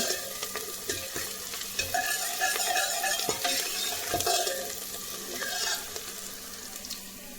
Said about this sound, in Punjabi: ਤੜਕਾ ਭੁੱਜੇ